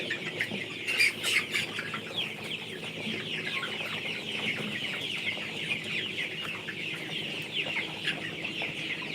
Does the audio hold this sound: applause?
no